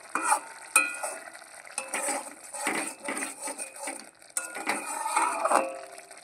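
Ghee heats in a pan for dhaba-style paneer, giving a bubbling sizzle mixed with scraping and light metallic clinks of a utensil, heard close and continuous, with no talk.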